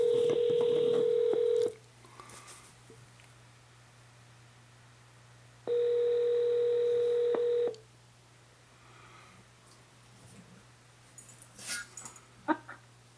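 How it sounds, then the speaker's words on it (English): A telephone call being placed, with two long steady tones a few seconds apart followed by faint rustling and small clicks. "Let's make a phone call."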